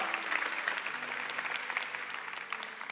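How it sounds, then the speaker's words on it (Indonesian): A church congregation claps together in a steady, moderately quiet round of applause, a continuous patter of many hands with no break over a few seconds. "Kasih tepuk tangan buat Tuhan"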